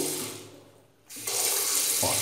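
A household tap is opened all the way, and water rushes into a sink. A hiss dips almost to nothing, then jumps back to a loud, steady gush that deepens slightly near the end.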